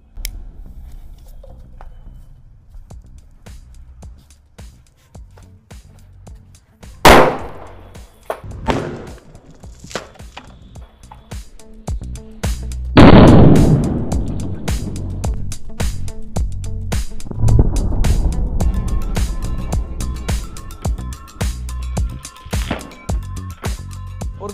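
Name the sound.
firecracker exploding underwater inside plastic bottle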